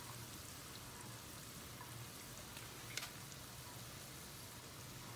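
Beef with Worcestershire sauce and soy sizzles in a pan for a stroganoff, a faint, steady frying hiss with a single small clatter partway through and no talk.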